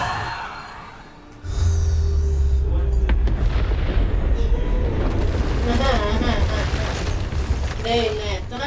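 Bombarda blasts go off in Hogwarts Legacy during a spell-casting duel, with a dense booming explosion sustained over several seconds and crackling magic effects, and a voice talking over the din.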